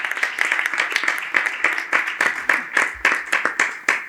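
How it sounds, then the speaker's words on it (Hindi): Audience clapping vigorously at an ISKCON religious talk in Rohtak, a dense run of sharp hand claps with bursts of rhythmic pulses, close and loud, no voices over it. "ताली बजानी खुल के बजाओ, नकली ताली पसंद नहीं है मेरे को"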